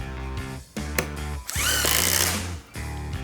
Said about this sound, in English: these are drywall fasteners. They're not the sharpest fasteners to be setting, especially in full depth of wood.